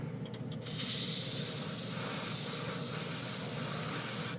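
A paint sprayer at about 40 psi air pressure releases a steady, loud hiss of spraying air after a short starting sputter, continuing without pause.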